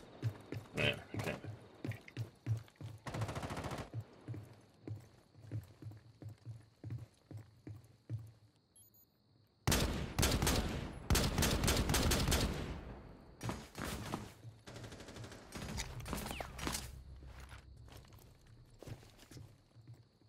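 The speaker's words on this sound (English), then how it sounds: "Who's shooting at people?" Gunfire in Rainbow Six Siege during a match, quiet at first with scattered rapid shots and footsteps, then a loud, dense burst of close automatic fire partway through, followed by more rapid volleys and pauses.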